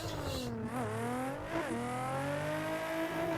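A car drifting on a track, its engine droning and shifting pitch as the tires scrub and squeal through the slide, loud and continuous with no talk.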